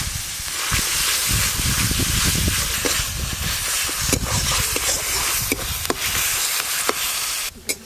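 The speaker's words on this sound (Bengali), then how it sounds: "এবার আদা রসুন বাটা দিয়ে আর একটু কষে নেব" Onion, ginger and garlic paste frying in a pan while being stirred, a steady loud sizzle and hiss with irregular scraping clicks from the spoon, close up and continuous, no talking.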